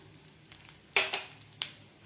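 Sesame seeds and cumin tipped into a hot pan of roasted peanuts for garlic chutney, giving a few short sizzling bursts with light stirring scrapes, close and fairly quiet, no voices.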